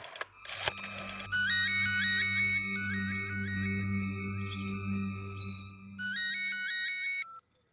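An outgoing telephone call rings back in a repeated electronic trill pattern, steady bursts of ringing at moderate volume over a low hum, with a brief click at the start and no talking.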